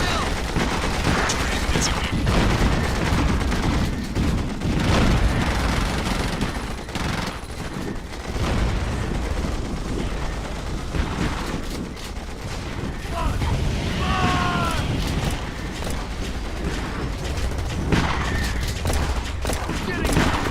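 Dense, continuous battle gunfire from the Starship Troopers: Terran Command strategy game, sustained bursts and booms layered over loud combat noise and shouting voices for the whole stretch.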